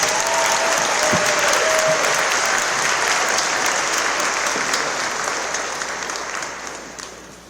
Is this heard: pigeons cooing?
no